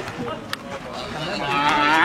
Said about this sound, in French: Cette vache est marquée du numéro